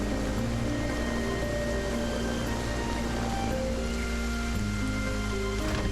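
Steady rain pours through the game world of Solarpunk, a constant even hiss with no pauses that sits under soft sustained musical tones throughout.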